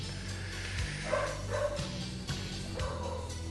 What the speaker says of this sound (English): Editor Edward, can you fast forward to when the dog stops barking?